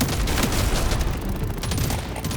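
Continuous automatic gunfire in the video game Deep Rock Galactic Survivor, a dense unbroken fusillade of rapid shots and booms, loud and steady throughout with no pauses.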